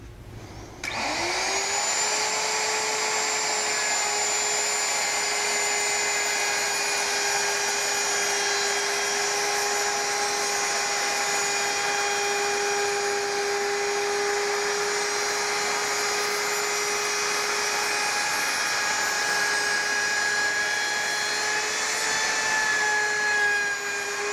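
A router with a half-inch round-over bit rounds the edges of wooden boards for a weather station stand. It gives one loud, steady, high-pitched whine that runs unbroken for over twenty seconds, with nothing else heard.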